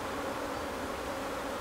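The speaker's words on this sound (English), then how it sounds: "I'm going to have to quit this after this frame because the bees are furious." Furious honey bees swarm around an opened hive frame, a dense, steady buzzing drone that fills the whole moment up close, with no voices over it.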